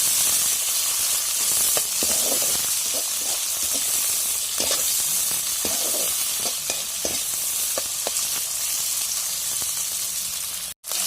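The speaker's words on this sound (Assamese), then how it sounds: "পিঁয়াজখিনি ৰঙা হৈ গ'ল, এতিয়া মই মাংসখিনি দি দিম।" Meat and onions fry in a pan with a loud, steady sizzle, broken by intermittent scraping and stirring knocks, ending with a brief sharp click.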